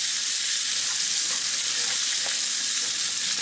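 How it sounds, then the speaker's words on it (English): Yakisoba ingredients sizzle steadily as they are stir fried in a hot pan, a continuous close frying hiss with faint stirring scrapes and no talk. "first step, you're just kind of stir frying the ingredients."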